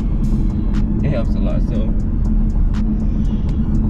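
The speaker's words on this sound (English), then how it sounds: "You barely touch the pedal, and it go like 300 RPMs" A Chevrolet Camaro SS fitted with a Pedal Commander throttle controller gives a steady, loud low engine rumble from inside the cabin throughout, with someone talking over it.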